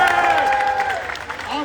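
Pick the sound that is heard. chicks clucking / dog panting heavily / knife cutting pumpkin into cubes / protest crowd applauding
protest crowd applauding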